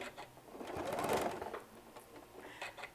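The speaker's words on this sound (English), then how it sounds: "We're going to back stitch a little bit" A sewing machine fitted with a quarter-inch piecing foot back stitches through fabric in a short, steady mechanical run that swells in the middle, close and clear with no talking.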